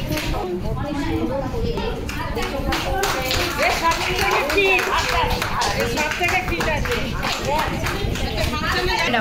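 A crowd at an informal ramp walk gives sustained, busy applause, the claps dense and close, mixed with lively chatter and children's voices throughout.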